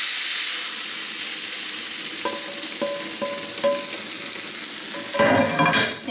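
Prawns stirred into a coconut curry in a pan, with a steady sizzle and soft scraping strokes, then a louder burst of bubbling and clatter near the end.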